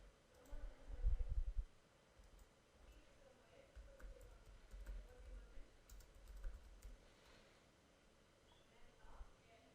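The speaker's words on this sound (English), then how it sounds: "typing the information into the relevant box and clicking the search button" Soft, quick keystrokes on a computer keyboard patter faintly through a low background rumble, mixed with occasional clicks.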